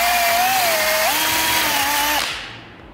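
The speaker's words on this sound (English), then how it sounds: "take a drill with a steel wire attachment on it, and we're gonna go ahead and just bore out this hole right here" Electric drill spinning a steel wire brush attachment as it bores out a rusty bushing hole on a Ford Mustang, a steady loud whine that shifts pitch slightly midway, then cuts off and winds down near the end.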